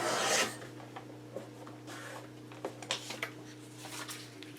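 Scrapbook paper being trimmed for an 8 x 8 album, a short rasping rush at the start followed by light scratchy rubbing and cutting sounds over a faint steady hum.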